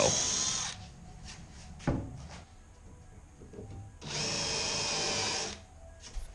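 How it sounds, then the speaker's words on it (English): A power drill whirs in two bursts while pre-drilling half-inch wood, a short one then a longer steady run, with a thud and quieter handling noises between. "for real though, don't forget to pre-drill."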